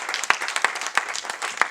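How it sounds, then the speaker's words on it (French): A church congregation at a New Year's Eve service in Rotterdam claps in a brief burst of dense applause, with scattered sharp individual claps standing out. "Zullen wij applaudisseren voor het woord?"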